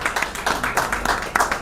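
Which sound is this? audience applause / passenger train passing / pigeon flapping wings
audience applause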